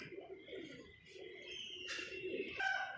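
A pigeon coos softly and low near by, a few murmuring calls over a faint background with light chirps, no one speaking.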